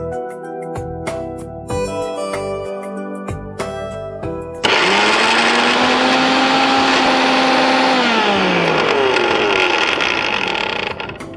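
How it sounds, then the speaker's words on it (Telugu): A kitchen mixer grinder grinding soya dosa ingredients: a few clinks and knocks of the jar first, then a loud, steady whirring roar that starts abruptly, dips slightly in pitch partway through and runs to the end. "సో ఇది మనం మిక్సీ పట్టేస్తాం."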